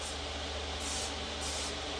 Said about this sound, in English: I'm gonna just do some spray adhesive real quick.